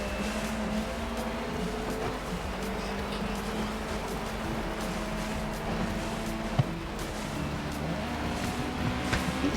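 Touring cars racing in GRID Legends, a dense, loud roar of several engines droning together with shifting pitches, occasional tire squeal and a brief knock, steady throughout.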